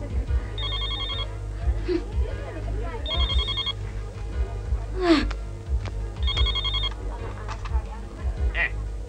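A mobile phone ringtone rings in repeated electronic bursts at a café table, three clear rings spaced a few seconds apart, with people talking over and between them.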